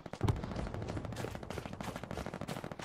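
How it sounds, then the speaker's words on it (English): Automatic weapons fire aimed at a church in the World War II shooter Hell Let Loose, a steady string of quick shots with rhythmic bursts, fairly faint and distant-sounding, with no talk over it. "We're shooting at the church."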